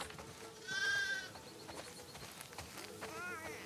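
Sheep in the game The Last of Us Part II bleat a few wavering times, close and moderately loud, over quiet ambience.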